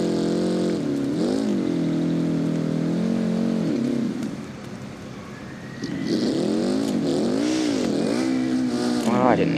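Car engine in BeamNG Drive droning and revving loudly, pitch rising and falling as the driver accelerates, easing off briefly midway before climbing again.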